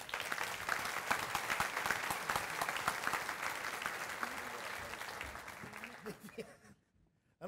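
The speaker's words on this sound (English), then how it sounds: "Please, a big round of applause for the president of Owensboro Community and Technical College, Dr. Scott Williams." Audience applause fills a room at a chamber of commerce breakfast, a dense steady clapping that carries on loudly for about six seconds before tapering off into near silence.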